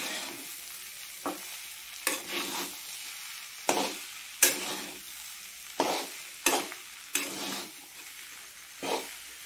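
A potato fasting dish with green chilli and crushed peanuts is stirred in a pan, with about nine distinct scraping strokes at uneven intervals over a soft, constant sizzle of frying.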